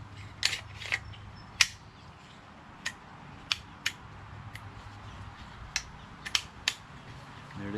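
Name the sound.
bolt carrier group pushed into Smith & Wesson M&P 15-22 upper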